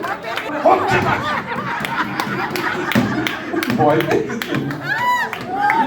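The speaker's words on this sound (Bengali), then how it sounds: "এবার প্যারোডি গানের আগে এটা একবার হাততালি হোক" Scattered clapping from an audience at a Bijoya Sammilani festival gathering in South Kolkata, mixed with lively chatter, laughter and people talking over it.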